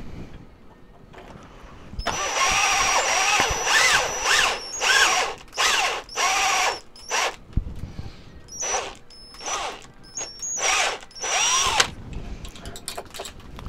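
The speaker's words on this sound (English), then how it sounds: "And just a regular drill." A regular electric drill bores into scrap wood in a string of loud, close bursts, the motor whining up and cutting off repeatedly, with short pauses between runs.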